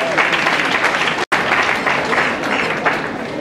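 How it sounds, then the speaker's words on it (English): Loud, dense audience clapping from a large gathering with students and guests, continuous apart from a brief cut, with voices mixed into the applause. "Can you all clap for yourselves for being here?"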